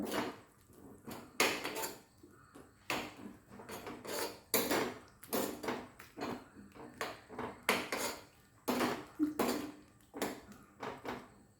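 Papaya curry stirred in a pan over a low flame with a spoon, making soft rhythmic scraping and clinking strokes, steady and close, repeated around a dozen times with no talking.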